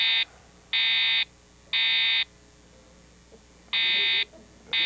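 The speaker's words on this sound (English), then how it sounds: "that's an alarm?" A building fire alarm sounding during a lecture, four loud, evenly spaced buzzing blasts with short silent gaps between them.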